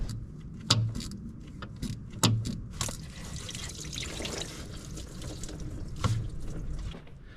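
Coolant drips and trickles from an old tractor while a Jubilee clip is replaced, with scattered splashes and knocks over a faint outdoor background.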